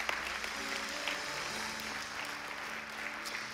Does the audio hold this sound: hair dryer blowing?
no